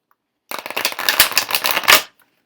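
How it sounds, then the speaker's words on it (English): A deck of tarot cards being riffle-shuffled close up, a quick two-second burst of rapid fluttering card slaps that ends in a final snap, loud against silence. "We'll shuffle it thrice."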